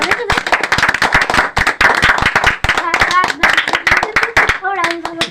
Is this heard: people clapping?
yes